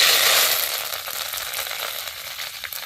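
Curry leaves fry in hot oil for a tamarind pickle, giving a soft, steady sizzle that is strongest at first and then eases to a quieter crackle.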